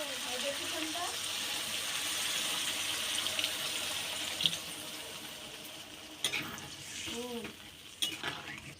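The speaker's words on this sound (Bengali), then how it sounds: "এবার পরিমাণ মতো জল দিয়ে দেব।" Water poured into a pan of rohu fish and potato curry while cooking, a soft trickle and splash with light clinks of utensils and some stirring near the end.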